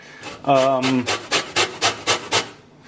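Lemon rind rasped against a metal grater for pasta al limone: a short voiced hum comes first, then a quick, steady run of about eight close, scratchy strokes.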